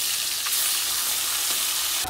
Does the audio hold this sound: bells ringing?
no